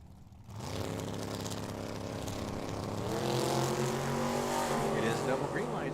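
A 1973 Camaro and a 1967 Camaro sit side by side at the starting line of a Tucson drag strip, engines rumbling loudly and climbing steadily in pitch as they build revs for the launch.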